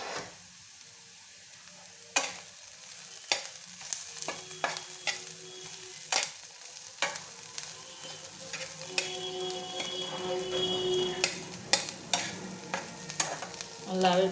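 Bottle gourd peel chachchori frying in a pan, with a steady close sizzle and repeated sharp scrapes and clacks of a spatula stirring, the sizzle swelling louder toward the end.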